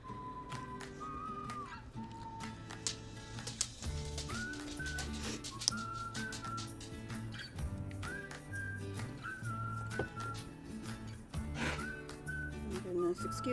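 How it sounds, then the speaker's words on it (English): A dog whines with faint, high-pitched whimpers and occasional snorts in the background of a quiet indoor room, the sounds coming and going through the whole stretch. "excuse my dog if you can hear that"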